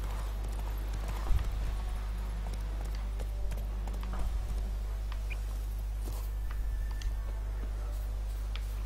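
Horse hooves in The Witcher 3 game, a steady clip-clop gallop over a constant low game hum, with a few louder thuds; no speech.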